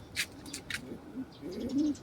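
Pet pigeons coo in soft low murmurs close by, mixed with a few sharp rustles or wing-flutter bursts over a couple of seconds.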